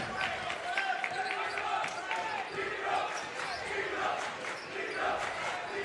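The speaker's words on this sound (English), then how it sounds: "Crowd getting into it." High school basketball game crowd cheering loudly in a gym, a sustained roar of voices with clapping, whoops and the thud of a bouncing ball underneath, with an announcer's voice mixed in.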